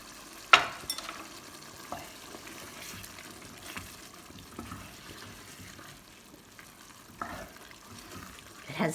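Ground beef with onions and chorizo sizzles softly in a pot for chili, with a few sharp clanks of a spoon stirring against the pot over a low, steady frying hiss.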